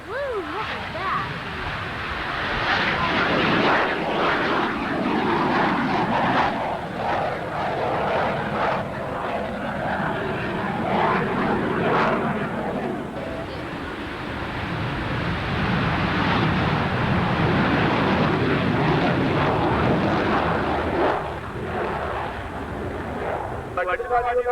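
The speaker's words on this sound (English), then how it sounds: "Landing gear extended. Ready to roll on takeoff." At a 1993 air show in Lafayette, an airplane roars on its takeoff run, a loud sustained engine rush that swells and recedes with crowd noise and speech mixed beneath.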